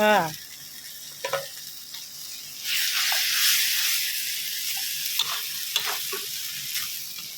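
Pad kra pao of minced pork with dried chili and holy basil stir-fried in a hot pan: a loud sizzle bursts up partway through, with scattered clinks of the utensil and a brief voice at the start.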